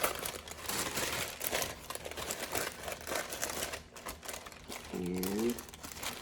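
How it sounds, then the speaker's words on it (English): Scissors cut around a plastic bag while packaging body butter orders, giving close, continuous crinkling and rustling with small snips and a brief squeaky chirp near the end. "I'm just going to cut around it like so"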